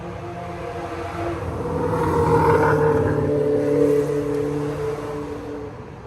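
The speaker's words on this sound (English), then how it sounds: "A lot of motorcycles." Engines of several motorcycles passing near a restaurant, a rumbling drone that swells to a peak in the middle and then fades as they move on, with no talk over it.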